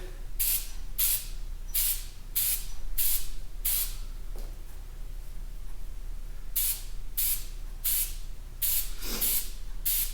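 Aerosol oil is sprayed onto a Harley-Davidson air filter in loud, close bursts of hiss, about six quick sprays, then a pause, then another run of sprays.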